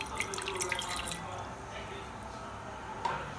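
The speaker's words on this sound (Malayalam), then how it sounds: "അതിലേക്ക് നമുക്ക് ഈ 1/4 ഗ്ലാസ് വെള്ളം ഒഴിച്ചു കൊടുക്കുക" About a quarter glass of water is poured into a pan for a ragi ball snack, a brief splashing pour at close range that stops after a moment, leaving quiet room sound and a faint later drip.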